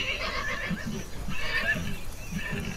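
A white horse neighs in a radio drama sound effect, giving repeated whinnies and snorts over a steady background bed with no talk.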